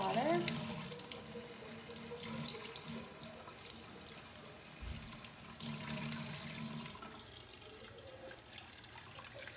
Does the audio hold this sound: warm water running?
yes